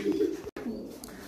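A racing pigeon coos close by in a soft, low, throaty murmur. The sound breaks off for a moment, then continues with faint background noise.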